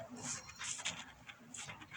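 A dog in the video game Minecraft gives a few quiet whimpers and pants in short, uneven bursts, close by and heard alone.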